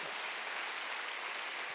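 Church congregation at a Wednesday worship service applauding together, a dense, even clatter of many hands clapping that holds steady throughout, with no speech over it.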